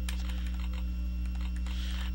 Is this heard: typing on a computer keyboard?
yes